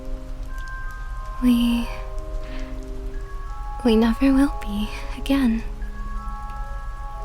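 Rain falls steadily on a surface, making a constant hiss in the background while a soft voice speaks over it.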